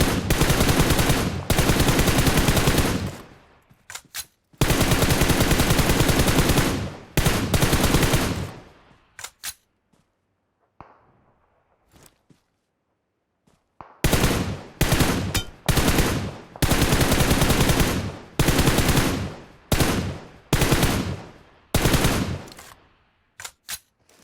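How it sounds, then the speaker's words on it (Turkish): Bursts of automatic gunfire in the PUBG Mobile video game, loud and close, in long rapid strings separated by a few seconds of near silence. "Aha onu da vuruyorlar."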